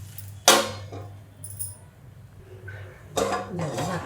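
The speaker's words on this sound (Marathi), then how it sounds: "दोन मिनटं पहिलं झाकण ठेवते." A metal lid set onto a pot on the stove while making kanda poha, giving a sharp clank near the start, a lighter clink after, and another rattle of cookware toward the end over a low hum.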